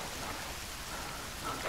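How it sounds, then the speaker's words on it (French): Rain in the survival video game The Forest pours down as a dense, steady hiss of drops with a low rumbling undertone, constant throughout with no speech. "Il pleut!"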